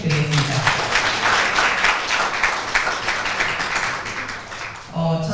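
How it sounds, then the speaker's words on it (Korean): Audience applause at a school opening ceremony and thanksgiving service after an ensemble performance, a full sustained round of clapping that fades, followed by a voice at the end. "앙상블을 연주해 주신 분들께 박수 한번 부탁드리겠습니다"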